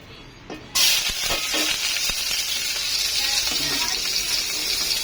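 Garlic and onion hit hot oil in a pan for ginisang sayote, starting with a sudden loud sizzle that settles into a steady, crackling hiss, with a few clinks of a utensil at the start.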